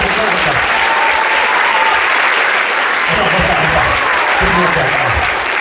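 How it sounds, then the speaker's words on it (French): An audience at a hypnosis show claps in sustained, dense applause that stays loud and even throughout, with a voice faintly speaking underneath. "on peut l'applaudir"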